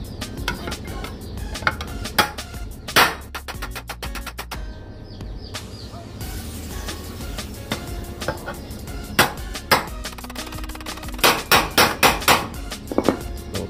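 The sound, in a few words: hammering a steel trowel handle rivet flat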